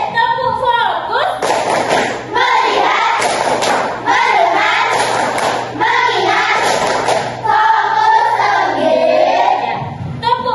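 Schoolchildren in a class do a rhythmic 'tepuk hebat' clap, groups of sharp hand claps in a set pattern, close and loud, overlapping with chanting voices.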